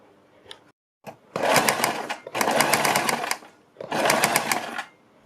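Sewing machine stitching a folded fabric strip along a neckline, running in three steady bursts of rapid, even stitching separated by short pauses, close and clear with no talk.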